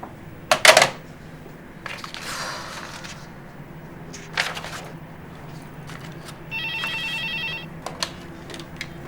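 A telephone placing a call to Canada rings in short electronic bursts against a quiet office background, mixed with sharp clicks and handling knocks, with no voices.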